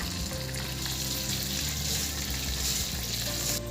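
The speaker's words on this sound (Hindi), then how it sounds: "अब ये पीसेस दोनों तरफ से 8-8 मिनट फ्राई हो चुके हैं।" Chicken pieces fry in hot oil, crackling and sizzling steadily and close up with a faint low hum underneath and no talking.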